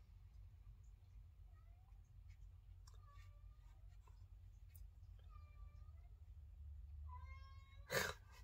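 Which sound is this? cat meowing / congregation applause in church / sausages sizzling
cat meowing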